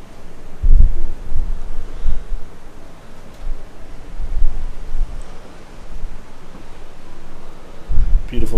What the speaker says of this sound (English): Ooh, a little breezy.